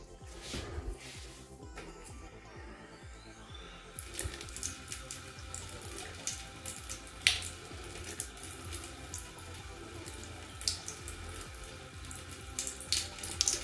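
Water from a tap runs steadily onto a sheet of homemade graphene plastic, a continuous close splashing and trickling rush that grows louder after the first few seconds, with no talk.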